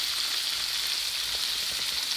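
Chicken liver for adobo frying in a pan, a steady, soft, even sizzle with faint crackle and no voices.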